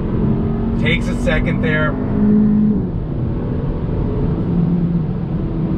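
A 2021 Hyundai Elantra N Line with a 7-speed dual-clutch automatic accelerates on throttle. The engine drone rises steadily in pitch, then drops at a gear change, with wind noise and someone talking briefly.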